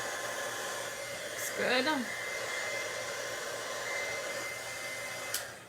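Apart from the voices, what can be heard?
heat tool melting embossing on a card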